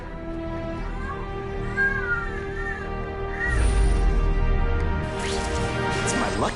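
A cat in a Spider-Man video game gives a few short meows over steady game music and ambience, followed by a louder burst of in-game action noise.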